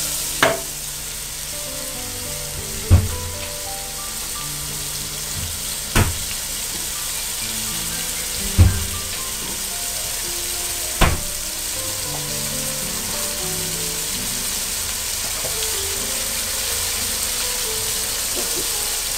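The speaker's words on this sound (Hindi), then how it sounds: "टमाटो को थोड़ा सा पकाएं।" Tomatoes with a teaspoon of salt cook in a hot pan with a steady nearby sizzle, punctuated every couple of seconds by a sharp tap of a spoon against the pan.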